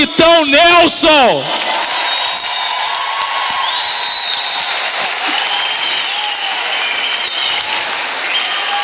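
Crowd at a Rio de Janeiro political rally applauds a mayor, a loud, sustained roar of clapping and cheering following a brief burst of amplified speech, with whistles and shouts rising above the wash.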